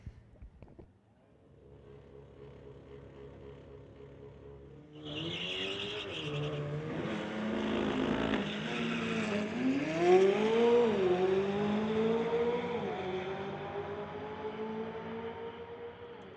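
McLaren and Volkswagen street-legal cars drag racing at a MOPAC event: a low idle rumble gives way to a loud launch roar near five seconds, then engines climb in pitch through gear changes, with a hint of tire squeal.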